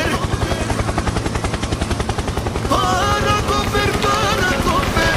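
A helicopter's rotor beats in a rapid, loud, close thumping pulse, joined partway through by a warbling whine, with the chop continuing steadily to the end.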